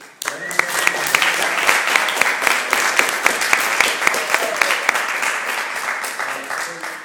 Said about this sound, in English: Applause for everybody.